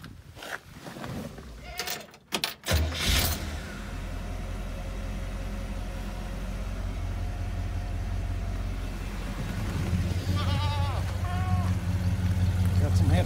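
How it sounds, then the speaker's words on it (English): A car exhaust rumbles steadily at low pitch while driving, swelling slightly louder toward the end, with animal bleats audible in the background. "I thought I'd give you a little sound bite on the actual exhaust."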